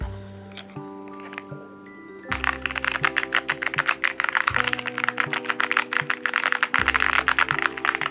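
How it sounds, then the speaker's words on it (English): A new mechanical keyboard is typed on close up, with a fast, uneven stream of clacky keystrokes over background music that changes partway through. "the clicking is honestly not too noisy compared to some keyboards that I've seen before"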